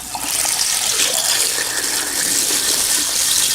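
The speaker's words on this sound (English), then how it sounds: "I'm giving everything a vinegar bath tonight." White vinegar gushes steadily over the rusty metal parts of a 1920s Superior gumball machine, a loud, close, continuous liquid rush with no talking.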